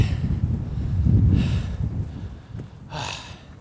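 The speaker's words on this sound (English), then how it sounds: "Oh, what a gust of wind." Wind buffets a camera-top microphone outdoors in rough, low rumbling gusts that swell, ease off and return, loud and close throughout.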